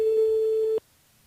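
A telephone ring tone sounds on an outgoing call to a listener during a live radio show on KAYANM FM, one steady electronic tone lasting under a second and then cut to near silence.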